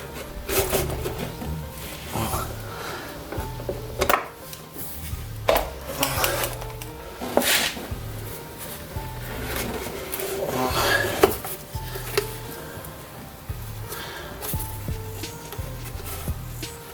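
A car brake duct is loosened and pulled out, giving scattered plastic creaks, knocks and scrapes at close range. The clicks come at irregular moments over a steady low background hum.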